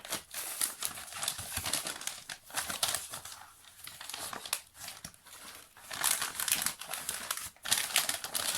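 A large paper envelope being torn open and handled, with close, busy crinkling and rustling in uneven bursts throughout, no speech.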